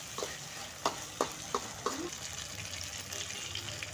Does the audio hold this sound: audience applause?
no